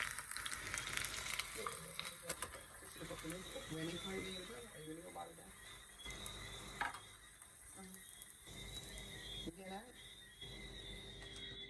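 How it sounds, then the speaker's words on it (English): Spicy panko-crusted onion rings deep frying in hot oil, a steady close sizzle with bursts of bubbling, while a person talks over it. "then we're going to deep fry these gorgeous spicy onion rings"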